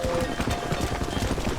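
Horse hooves pound in a rapid clip-clop gallop in the Red Dead Redemption video game, a loud, rhythmic run of close hoofbeats continuing without pause.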